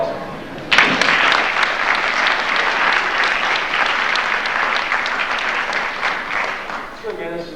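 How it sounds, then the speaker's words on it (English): Applause breaks out suddenly after brief talk at a school spring sports awards ceremony honoring a coach, loud sustained clapping from the crowd that eases off near the end as a voice resumes. "we give him a hand, round of applause"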